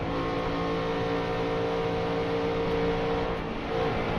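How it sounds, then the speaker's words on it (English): An ARCA race car engine at Daytona, heard from on board, drones loud and steady throughout, with a slight dip in tone near the end as the driver lifts off the throttle. "You could hear him lifting"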